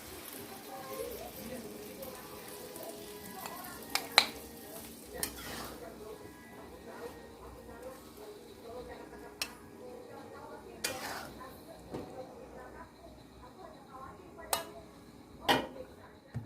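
Semur tempe is stirred and served onto a plate, with scattered clinks and scrapes of a utensil against a pan and plate, plus some light handling noise over a quiet background.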